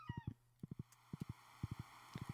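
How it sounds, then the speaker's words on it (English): Video game horse hooves in Stardew Valley clip-clop in quick groups of three, a trotting rhythm repeated four times over a steady low hum, fairly quiet. "Come on, horse."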